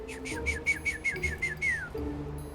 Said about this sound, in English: I do that whistle every time so she gets to know part of my voice